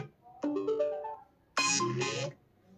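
A short iPhone ringtone preview plays in two bright melodic bursts, the second higher and louder, with brief quiet between them.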